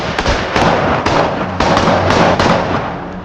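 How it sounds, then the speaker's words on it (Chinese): Gunfire from the American action thriller The Equalizer 3 rings out as a series of loud, sharp bangs with heavy low thumps, several blasts following one another closely across a few seconds, with no voices. "枪声响起，男人身中子弹"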